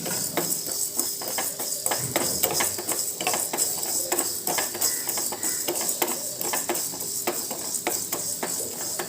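Fenugreek seeds dry-roasting in a pan for puliyodharai, a steady busy crackle and hiss with frequent small metallic scrapes and clinks of a spoon stirring against the pan.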